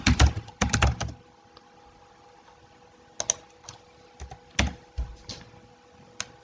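Keys clatter on a computer keyboard as a presentation name is typed, a quick burst of clicks up front, then scattered single taps and short clusters in a quiet room.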